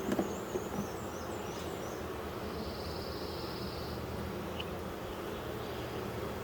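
Honeybees buzz around an open hive during a colony inspection in the honey flow, a steady, moderately quiet hum of many insects filling the clip with a few brief louder passes near the start.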